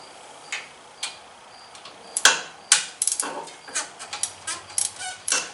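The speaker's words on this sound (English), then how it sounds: "Let's take this plug out and hope the oil level is nice and full like it was in the rear axle." A ratchet wrench loosens the front differential oil level plug on a Honda Pioneer, a string of sharp close metallic clicks that starts sparse and then quickens into rapid irregular ticking, with no talking.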